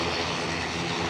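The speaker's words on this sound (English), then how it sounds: "The sound you can hear is the Belfast Aer Lingus departure." Aer Lingus airliner departing Edinburgh Airport for Belfast, a broad steady jet engine roar filling a short moment, loud and continuous with no voices.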